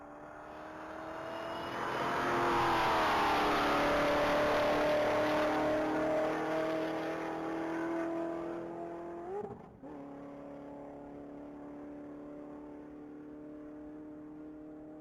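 A 2019 Corvette Z06 roars on a top-speed mile run, engine climbing loud and steady through the gears, with a brief dip at a shift before it holds a high sustained drone.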